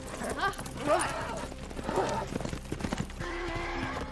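A horse whinnies a few times close by amid hoof clatter, with people talking over it.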